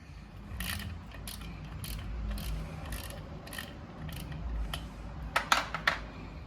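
A ratchet fitted with a T25 tamper-proof socket clicks in short, fast bursts while turning a derby cover bolt on the primary chaincase of a 2022 Harley-Davidson Street Bob 114, close and crisp with sharper clicks near the end.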